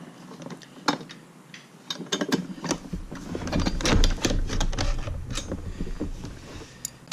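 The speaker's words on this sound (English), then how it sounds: "take the hose reel off of the mounting bracket to make it easier to install" A Husky retractable extension cord reel is taken off its mounting bracket, giving irregular close mechanical clicks, knocks and rattles of plastic and metal parts.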